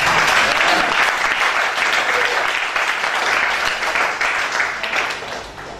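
A church congregation applauds throughout at a pastor's consecration service in Togo, a dense, loud, sustained clapping that tapers slightly toward the end.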